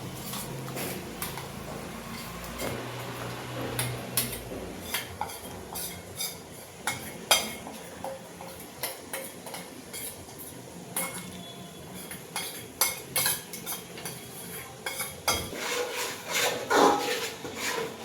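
A spoon scrapes and knocks against a pan as masala spices and yogurt are stirred together for paneer biryani, with irregular rubbing strokes and clinks over a long stretch, close and moderately loud, with no voices.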